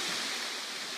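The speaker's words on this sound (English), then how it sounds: "Look at that beautiful waterfall." A steady wash of rushing water, like a waterfall, fills the short clip as an even, broadband roar with no talking.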